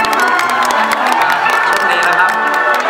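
A Thai stage audience claps and cheers for two young singers, with loud crowd roar, excited shouts and whoops over steady applause, all close and filling the whole clip.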